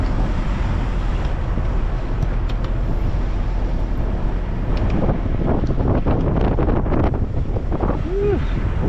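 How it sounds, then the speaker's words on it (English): Strong wind buffets an outdoor homestead site, a steady roar and rumble against the microphone that holds through the whole stretch, with faint background clatter and a brief voice near the end. "The wind is whipping."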